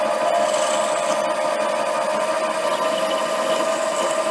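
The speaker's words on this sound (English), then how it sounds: "we'll go ahead and drill and tap that one now" Steady drill bit cutting a hole in a workpiece on a lathe, preparing it for tapping while making a steady rest; a continuous, even whirring grind with no pauses, close and fairly loud.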